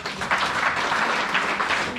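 Applause in a church for the women of the choir, a steady wash of many hands clapping that fills the whole space at an even level without pause.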